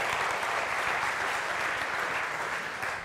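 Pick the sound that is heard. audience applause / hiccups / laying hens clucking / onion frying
audience applause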